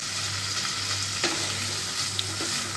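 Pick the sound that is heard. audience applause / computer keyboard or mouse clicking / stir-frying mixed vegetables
stir-frying mixed vegetables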